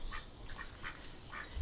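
Ducks quack repeatedly in short nasal bursts in a backyard, close and fairly clear over a steady outdoor background hiss.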